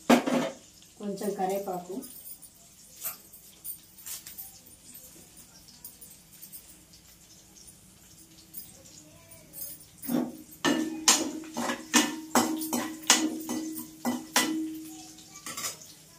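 Spoon scraping and clinking against a cooking pot while cumin is stirred, a run of sharp metallic knocks bunching together near the end, with someone speaking briefly near the start.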